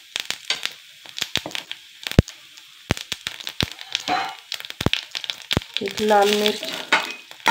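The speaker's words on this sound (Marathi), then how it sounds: "आपली जी फोडणी जी आहे चांगली तडतडलेली आहे" Mustard seeds, cumin and curry leaves crackle and sizzle in hot oil for a red chili tempering, sharp pops scattered through, with a brief voice speaking over the frying.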